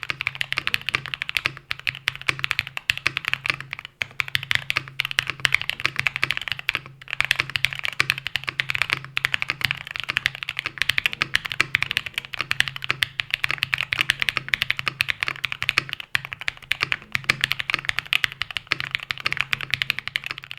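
Steady, fast typing on a CannonKeys Brutal V2 65 mechanical keyboard, dense clacky keystrokes close up with a faint low hum underneath.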